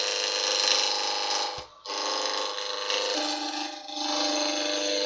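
A roughing gouge bites into spinning wood on a lathe, a steady dense cutting roar with a brief dip where the tool lifts, then continuing with a slightly shifting tone as the wood gets harder.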